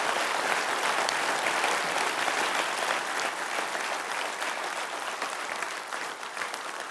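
Audience applause for mariachi performers at a town mayor's New Year ceremony, thick continuous clapping from a large hall crowd that gradually eases off.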